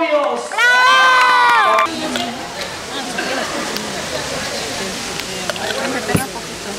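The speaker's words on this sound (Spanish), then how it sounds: "más fuerte el aplauso para los novios" A retirement party crowd greets the honorees with cheering and clapping; a loud sustained whoop and shouts open the moment, then dense mixed applause and crowd noise carry on steadily to the end.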